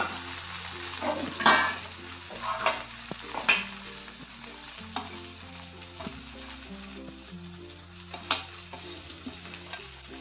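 Stuffed brinjal coated in masala is stirred in a pan, with a soft continuous sizzle broken by several scraping spoon strokes and a faint background tone.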